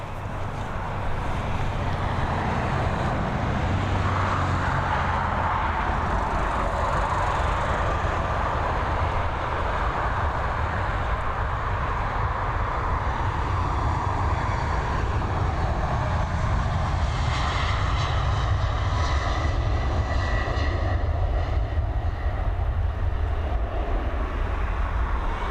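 A jet airliner on the Boston flight takes off from Dublin Airport, its engines roaring loud and steady throughout, with broadband rumble building and a shifting whine late as it climbs away.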